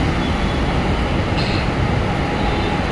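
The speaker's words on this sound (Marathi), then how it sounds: "मी प्लॅटफॉर्मवर उभी आहे।" Ambience on a metro station platform: a loud, constant rail rumble with a brief high squeal partway through and no talking.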